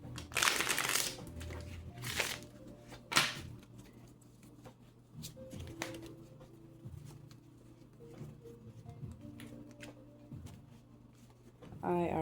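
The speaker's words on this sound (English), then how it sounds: "Shuffle these cards." Tarot-style cards being shuffled by hand, with quick papery riffles and flutters in bursts at the start and near the end, then softer handling and faint rustles in between, close and fairly quiet.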